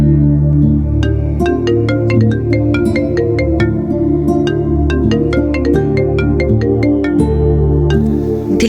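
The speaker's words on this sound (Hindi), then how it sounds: "फिर से रिंग आ गई" A mobile phone ringtone plays loudly and steadily for the whole stretch, a repeating melodic tune with bright, regular note attacks in a domestic drama scene, with no voices over it.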